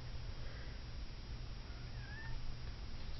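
A cat meows and cries at a door, asking to be let in, a faint, close, plaintive call heard over a steady low background hum.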